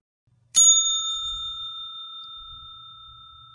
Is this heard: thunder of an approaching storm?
no